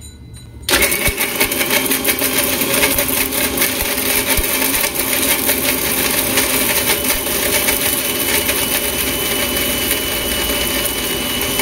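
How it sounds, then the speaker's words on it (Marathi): Coconut grinding in a kitchen mixer grinder, a loud continuous whirring motor roar that starts abruptly after a moment of quiet and runs steadily to the end, close by with no talking. "मिक्सरचा थोडासा आवाज होईल 2 मिनिटं"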